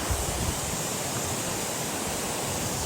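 Steady broadband roar of a waterfall at Tatopani in Rukum East, Nepal, close and loud, constant throughout with no voices.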